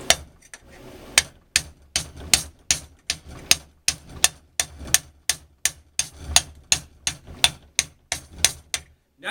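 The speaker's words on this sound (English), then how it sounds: "Alright, so now I got that starting to move out. I'm going to keep tapping it." A hammer taps repeatedly on the loose end bell of a Balboa spa pump motor, about twenty sharp metallic knocks in a steady, close rhythm with brief pauses between them.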